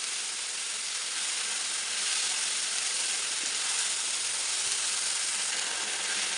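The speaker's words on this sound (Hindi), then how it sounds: "तीन से चार मिनट तक हम मसाले को भूनेंगे।" Spice masala with turmeric, cumin and dried coriander fries in a pan, giving a continuous, even sizzling hiss with no voices over it.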